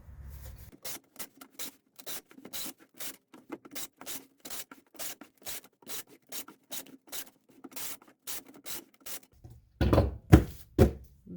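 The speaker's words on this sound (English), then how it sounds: "now, we really got to tape it up good" Packing tape pulled and stuck down on a shipping box, a quick series of sharp ripping strips close by, ending in heavier rubbing and crinkling.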